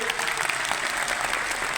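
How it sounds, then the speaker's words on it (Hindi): Loud applause from an audience honoring guru Shri Mahipal at an AWPL gathering, a thick continuous patter of many hands kept steady throughout the brief clip. "मैं चाहूँगा आपकी एक बार जोरदार तालियां हमारे महागुरु श्री महिपाल सर के लिए।"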